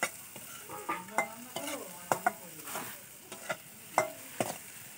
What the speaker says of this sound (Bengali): এবার এতে পেঁয়াজ, লঙ্কা, এসব বিভিন্ন ধরনের মশলা দিয়ে এই নাড়াচাড়া হচ্ছে